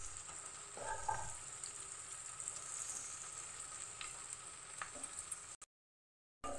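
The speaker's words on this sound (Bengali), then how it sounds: "এগুলো দিয়ে ভালো করে একটু ভেজে নিতে হবে" Chopped capsicum and other ingredients for chilli chicken fry in a pan with a steady, close sizzle and a few soft stirring knocks, cutting to brief silence at the end.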